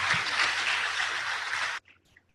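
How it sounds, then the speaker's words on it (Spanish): An audience at an evening event presenting study and work abroad in Canada or Australia claps in steady, dense applause that stops abruptly, with no talking over it. "Aplausos, por favor."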